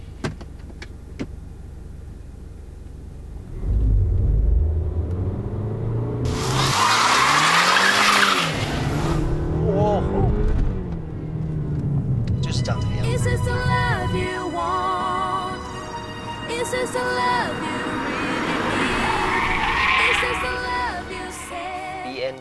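A BMW 220i Sportline coupe with a 2.0-litre inline four-cylinder turbo engine launching from a standstill using launch control, loud engine revving rising, tyre noise, then a sustained acceleration roar that changes pitch through gear shifts.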